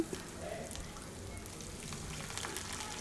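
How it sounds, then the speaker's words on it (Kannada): Ginger frying in a hot pan for capsicum chitranna, a soft steady sizzle with faint crackles that carries evenly through the whole stretch at low volume, without any voices. "ಸ್ವಲ್ಪ ಫ್ರೈ ಆದಮೇಲೆ ಇವಾಗ ಶುಂಠಿ ಹಾಕೋಣ"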